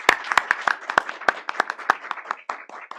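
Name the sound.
audience applause welcoming a speaker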